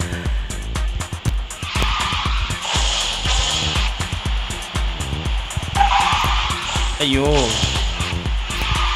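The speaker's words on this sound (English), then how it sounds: "Trying to get boost while drifting also can be a bit difficult." Drifting race car in the mobile racing game QQ Speed Mobile, with a loud revving engine and long tire squeals sliding through corners, under game effects and a man's excited exclamations.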